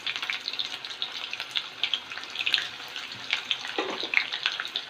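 Onions sizzling steadily in well-heated oil while being fried crisp for beresta, a soft continuous crackle with small bursts, close by and without talk.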